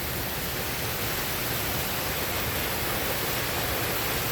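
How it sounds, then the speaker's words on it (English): A small outflow waterfall below Wilson Dam, heard as a continuous broadband rush of falling water, steady and fairly distant, with no voices over it. "There's a little bitty outtake waterfall right here."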